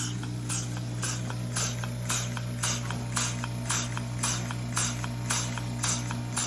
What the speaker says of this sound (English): the noise of the milker in the background